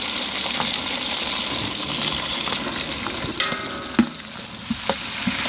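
Onions, green chilies and tomatoes fry in oil as the base for chicken biryani, a dense close sizzle with a few sharp clinks and scrapes of stirring near the end.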